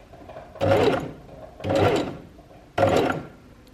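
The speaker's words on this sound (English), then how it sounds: "you're just going to place your foot on the pedal and do 3 stitches" A sewing machine run by foot pedal, three short whirring bursts of stitching about a second each, separated by brief pauses, close and clear with no voices.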